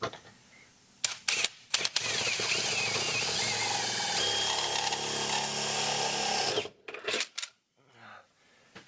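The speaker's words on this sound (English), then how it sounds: "I got my 3 holes marked out from underneath that I can get to with a drill bit" Drill bit boring holes for a 5-speed transmission mount, a brief burst of drilling followed by a sustained grinding whine for several seconds, set among clicks and clunks and trailing off into short handling noises.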